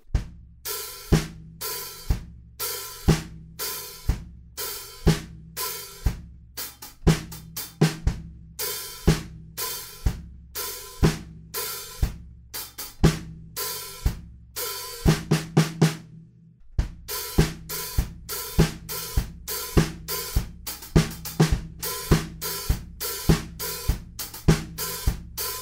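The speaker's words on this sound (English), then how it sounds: "Eventually, we're gonna sizzle those offbeat hi-hats, so that would sound like this." Steady drum beat on a kit with sizzling offbeat hi-hats, played in a groove: regular kick and snare hits with crisp hi-hat washes, a brief pause near the middle, then a denser pattern.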